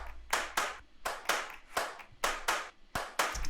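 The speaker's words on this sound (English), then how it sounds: "these hand clap loops are pretty good" Hand clap loops in a drum mix, with crisp claps that have a human feel, falling in a steady syncopated pattern, mostly in pairs, bright and close with short decays and no voices.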